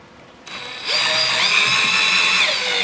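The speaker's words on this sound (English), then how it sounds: "and then you're going to drill it down as well." A power drill whirs up to a steady high-pitched spin, running for a couple of seconds as it drives a screw into a pre-drilled hole, close and loud.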